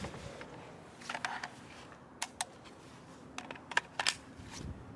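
A .223 AK magazine is fitted into an M90 rifle, producing a few sharp metallic clicks and clacks in quick, uneven bursts, close and fairly quiet against a low background hum.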